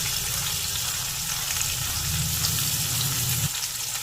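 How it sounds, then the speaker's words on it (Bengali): Potatoes cut into long strips and chopped onion fry in oil tempered with black cumin seeds and salted, giving a steady, close, even sizzle throughout with a low hum underneath. "পেঁয়াজ আর আলুকে সামান্য একটু ভেজে নেব"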